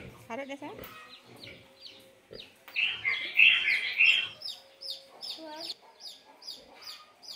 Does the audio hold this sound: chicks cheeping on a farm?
yes